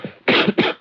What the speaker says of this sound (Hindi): इसमें खांसने की कोई बात नहीं है भाई